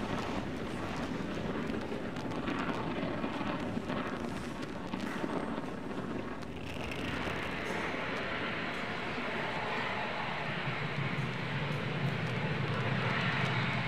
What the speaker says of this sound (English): Falcon 9 has successfully lifted off from slick 40.